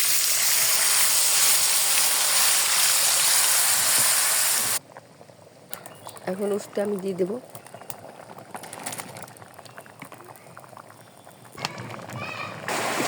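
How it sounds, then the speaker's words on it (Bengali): Heavy monsoon rain pours down outside a home kitchen where lentils are cooking, a dense steady roar for several seconds that cuts off abruptly, followed by someone talking over fainter background noise. "এখান মুষলধারা বৃষ্টি হইতেছে, বৃষ্টির শব্দ অবশ্যই শুনতে পাইতেছেন।"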